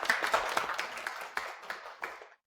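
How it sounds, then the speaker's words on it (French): A few office colleagues applaud a newly appointed supervisor, a short burst of close clapping from several people that thins into scattered claps and stops. "Applaudissons-la bien fort."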